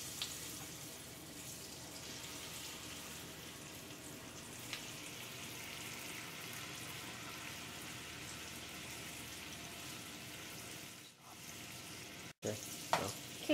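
Banana and Nutella filled wontons fry in hot oil with a soft, continuous sizzle at moderate distance, ending with a couple of brief knocks and clatters.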